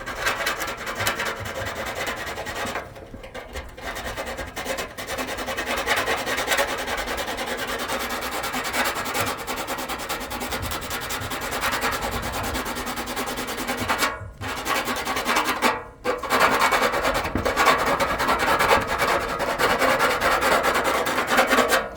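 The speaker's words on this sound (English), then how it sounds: "I gotta get all this chipping paint off of here, get all this sanded all up in here" Sandpaper scrubs chipping paint off a Honda Civic EF body in a continuous, rapid rasping rhythm, close and steady, with only a few brief pauses and no talk.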